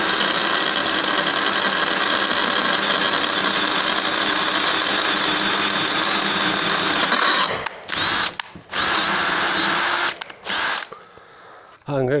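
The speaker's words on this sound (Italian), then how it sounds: "Punta da 6 sul Ryobi. Prima velocità." A Ryobi LLCDI18 18V cordless drill with a 6 mm bit runs in first speed, a loud steady motor whine that holds for about seven seconds, then stops and restarts in several short bursts.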